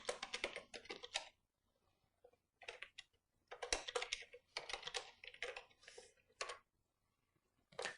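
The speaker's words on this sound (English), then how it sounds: "So now I'll have to type some new password." Computer keyboard keys tapped in quick bursts of typing as a new password is entered on a Windows 8 PC, close and fairly quiet, with short pauses between runs of clicks.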